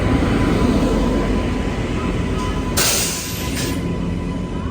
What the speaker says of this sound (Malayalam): train number 128-45 SMVT Bengaluru super fast express ഇതാ പ്ലാറ്റ്ഫോം നമ്പർ 1 കടന്നു വരികയാണ്